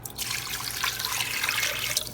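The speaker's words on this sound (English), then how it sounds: "And I'm gonna take some water" Water pours steadily into a crockpot of beef stew for a hearty home recipe, a continuous bright splashing stream heard up close with no talking.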